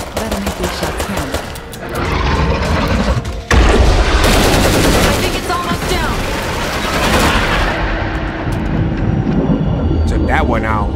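Gunfire in the State of Decay 2 video game, rapid shots from a last magazine cracking over a constant dense game soundscape with a heavy burst near the middle, a voice talking through it.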